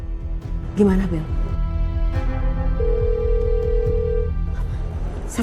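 An unanswered phone call rings out with a single steady, sustained ringback tone over low room noise.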